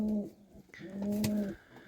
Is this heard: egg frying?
no